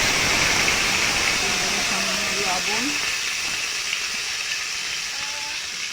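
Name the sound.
potatoes frying in a wok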